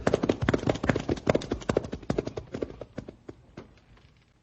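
Several horses clip-clop along a trail in a quick, close run of overlapping hoofbeats that gradually fade as they move off, with no talking over them.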